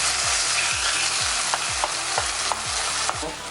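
Steak sizzles in a frying pan after being flipped, a steady loud hiss broken by repeated scraping stirs and light utensil taps.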